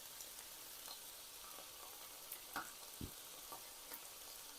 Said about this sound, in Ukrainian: І обсмажу на середньому вогні приблизно також 4-5 хвилинок.